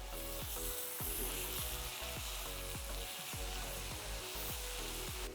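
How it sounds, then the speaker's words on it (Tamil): Garlic, onion and tomato sauté in a pan for a vendakkai puli kulambu, making a soft, steady sizzle punctuated by regular scraping strokes of a spoon stirring about once a second, with no talking. "கொஞ்சம் பூண்டு அதே மாதிரி வெங்காயம் கொஞ்சம் வதங்கி வந்தோடனே நம்ம வெட்டி வச்சிருக்கிற தக்காளி ஒரு 1லேருந்து 2 தக்காளி"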